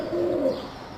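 A single soft, low pigeon coo sounds close by, a brief tonal murmur under a quiet background, with no voices.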